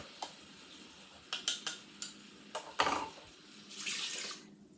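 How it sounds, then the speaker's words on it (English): A few clinks and taps, then a short splashy rush of water poured from a can into a pot of goulash, close by. "And I'm going to add my can of water to this too."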